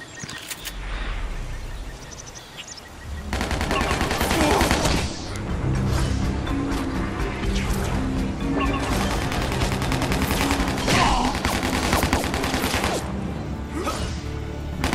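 Sustained gunfire in Spider-Man: Shattered Dimensions, loud overlapping bursts that kick in after a quieter opening and keep rattling on amid crashes and game effects.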